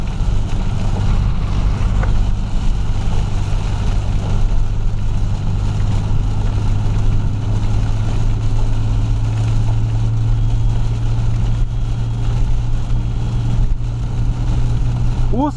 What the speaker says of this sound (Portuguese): O som desse carro é espetacular.